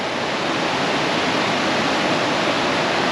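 Whitewash rapids on the Darling River in outback New South Wales, a dense, steady roar of rushing water filling the space loudly and evenly with no pauses or voices.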